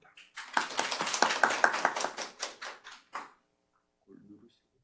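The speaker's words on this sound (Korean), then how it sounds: "정선문 교수님 큰 박수로 맞으시기 바랍니다." A small lecture audience welcomes a professor with a few seconds of close, crisp clapping that swells, then tapers into scattered last claps before quiet and a faint murmur.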